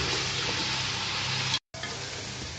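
Mutton pieces sizzle steadily in a hot pan, browned with whole garam masala, garlic and ginger for a Kuna curry. The hiss is close and even, with a brief dropout near the end.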